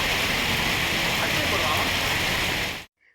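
Heavy rain pouring down in Hyderabad, a loud, dense, steady hiss of downpour close by that cuts off abruptly near the end.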